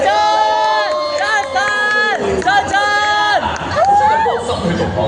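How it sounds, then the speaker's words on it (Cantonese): A loud crowd cheers, whoops and shouts for contestants at an Ocean Park talent competition event, with voices and excited children's shouts layered continuously throughout. "我哋即刻以最熱烈嘅掌聲！"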